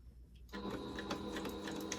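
A sewing machine stitches a drawstring backpack, starting after a brief half-second of quiet and then running as a steady, close, continuous mechanical whir to the end.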